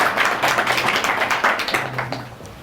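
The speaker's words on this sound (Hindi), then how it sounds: "सो एक बार तो जोरदार ताली अपने लिए बजा लो।" Audience at a live online study and note-making session claps loudly for itself, a quick, close flurry of sharp hand claps that thins out toward the end, with a low hum underneath.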